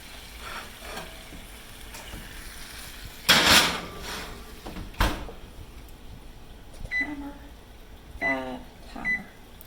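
A pan of marinated London broil goes back into a kitchen oven, bringing a sharp metallic clatter and a thump as the oven door shuts, followed by quieter handling knocks and a few soft electronic beeps.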